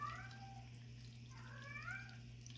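A house cat gives a couple of drawn-out, wavering meows, fairly soft, over a steady low hum in an indoor room.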